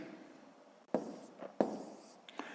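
A pen writes numbers by hand on paper during a math exercise, with soft close scratching and a few sharp taps as the pen meets the page, quiet and without talk.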